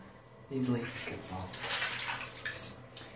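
Warm water runs and splashes as Lego bricks are washed, with sloshing and faint clicks of plastic, while a person talks quietly over the washing.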